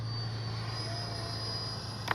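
E-flite 64mm Viper RC jet flying on a morning run, a steady high-pitched ducted-fan whine holding at an even level throughout, with a faint brief click near the end.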